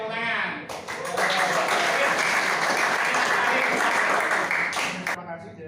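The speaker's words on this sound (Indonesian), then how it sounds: "Oke, tepuk tangan." A classroom group of teachers breaks into loud, sustained clapping for about four seconds after a coaching-practice discussion, with brief talking just before it starts and as it fades.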